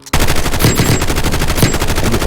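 Rapid automatic gunfire from the mobile shooter game Warzone Mobile, a loud, dense burst of fast repeating shots that sounds close and continues unbroken for about two seconds after a brief quiet start.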